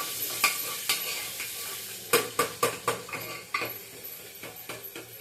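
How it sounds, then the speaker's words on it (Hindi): Onions fry in a pan for sambar, with a soft sizzle beneath sharp, rhythmic clinks and scrapes of a stirring spoon against the pan, close up and without talk. "अब मैं इमीडिएटली इसमें थोड़ा सा प्याज डाल दूंगी। प्याज भुनेगा"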